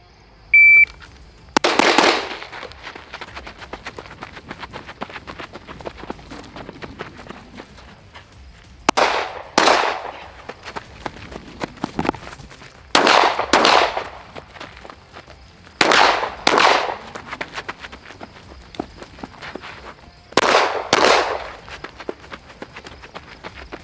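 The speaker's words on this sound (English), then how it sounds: "let's give it a run with the pistol" Pistol shots from a concealed-carry handgun in a timed shooting drill: loud, sharp cracks in quick pairs and clusters, spread over about twenty seconds, with shuffling footsteps and movement between the strings of fire.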